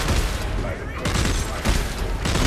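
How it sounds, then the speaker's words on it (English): Automatic gunfire aimed at human enemies in the video game Dead Space 3, a dense, continuous rattle of shots with heavy low booms, loud and sustained for a few seconds. "I'm shooting humans."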